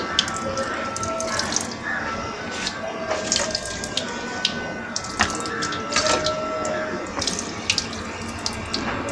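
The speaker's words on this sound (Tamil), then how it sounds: "தண்ணி வந்து ஃபுல்லாக வருது. ஃப்ளோட் ஆகிட்டே வந்துட்டு தண்ணி வெளியே வருது." Water from a small DIY motor pump with a float switch pours and splashes continuously, close and moderately loud, with occasional drips and no talking.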